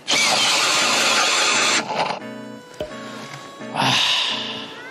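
A Makita power drill bores into ice, starting with a loud, sustained high-pitched whirring drive, then slowing and stalling in the middle with brief mechanical clicks before spinning up hard again near the end.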